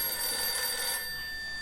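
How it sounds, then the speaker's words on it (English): A telephone bell rings in a retro fifties-style luncheonette setting, a steady bright ringing tone heard alone at moderate level for about a second before fading. "Answer the phone, Donald."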